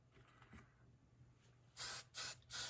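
Hairspray from an aerosol can is sprayed onto the nose of a handmade Santa gnome built with a plush Santa hat, heard as three loud, close hissing bursts near the end after a quiet stretch.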